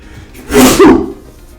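A single sharp sneeze bursts out near and loud, a short broadband blast lasting under a second against a quiet background.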